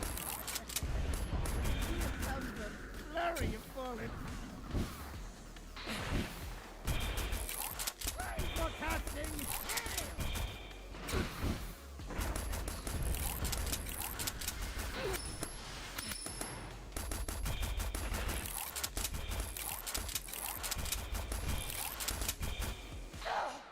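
Rapid bullet fire from a boss battle in the video game Steel Carnelian, a dense, continuous stream of sharp shots and impacts layered over game music throughout.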